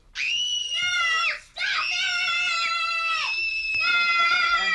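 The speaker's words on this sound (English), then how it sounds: "There's going to be a three-way screaming match." Three people scream together at full volume on a film set, a sustained high shriek that breaks off briefly, then resumes and holds loud and steady until the end.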